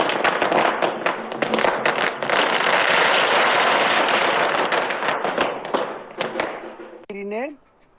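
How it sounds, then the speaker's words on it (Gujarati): Dense, rapid crackling and popping of firecrackers set off by party workers at a large election-victory celebration at Kamalam goes on for several seconds, then thins out before a short voice-like tone near the end. "ફટાકડા ફોડી ભવ્ય જીતની કરી ઉજવણી"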